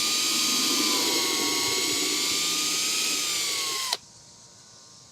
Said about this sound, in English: I got a small drill bit. I'm going to drill this